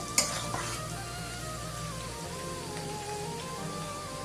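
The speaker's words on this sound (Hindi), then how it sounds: "आलू को भी मैं 2 मिनट फ्राई करेंगे।" Potatoes for methi aloo fry in a pan, giving a steady crackling sizzle throughout, with a sharp utensil knock at the start.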